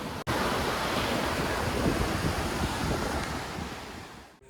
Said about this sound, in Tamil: பாருங்கள் நம்ம தென்பெண்ணை ஆற்றுல எந்த அளவுக்கு வெள்ளம் சீறி பாஞ்சு ரொம்ப ஆக்ரோஷமாக போயிட்டுருக்குன்னு